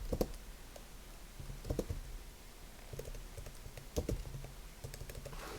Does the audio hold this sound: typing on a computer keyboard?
yes